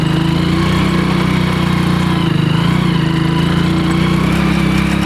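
A motorcycle climbing a slope in first gear on light throttle, its engine a loud, steady, close-up chugging drone with a strong low hum and little change in pitch.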